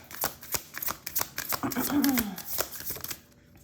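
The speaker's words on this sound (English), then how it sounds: "Let's do a little moonology cards." Moonology tarot cards are shuffled close up in a rapid, papery riffling patter, soft and steady, with a voice faintly under it.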